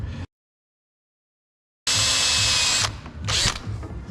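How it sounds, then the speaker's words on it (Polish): A power drill with a 3 mm bit whines briefly while drilling out an old screw during repair of a Karcher HDS pressure washer pump, starting after a short silence and running loud, then dropping off in short bursts. "Teraz trójką wiertłem wybijemy ją, tą starą."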